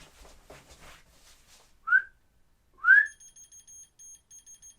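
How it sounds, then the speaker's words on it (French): Two short rising whistles from a person in an indoor filming room, each answered by a small key finder's repeated electronic beeping that continues in an even rhythm after the second whistle. "je vais le poser ici, je vais siffler."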